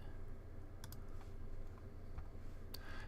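A few faint, sharp computer mouse clicks sound over a quiet, steady room hum, spaced irregularly as a website page is opened.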